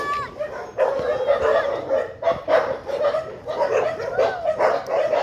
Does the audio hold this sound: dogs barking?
yes